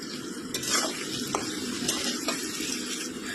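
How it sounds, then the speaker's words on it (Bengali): Chopped potatoes fry in oil in a pan while a utensil stirs them, giving a steady sizzle broken by several sharp scrapes and clinks against the pan, close and without talk. "তারপরে দিয়ে দেব কেটে রাখা আলু দিয়ে ভালো করে ভাজা করে নেব।"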